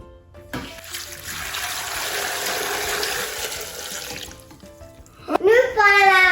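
Water poured steadily into a container for homemade rhubarb lemonade, a broad rushing splash lasting several seconds before it stops and a voice speaks.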